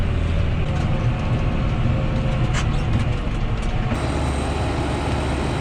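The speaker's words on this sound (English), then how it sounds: "That Kubota actually moves pretty good for a skid loader." A Kubota skid loader engine runs steadily during bale hauling, a loud, constant low diesel rumble and mechanical clatter with no talking.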